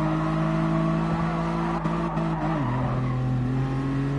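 A race car in Gran Turismo Sport revs hard with a loud, steady engine whine that drops in pitch at a gear change and keeps pulling, close and continuous.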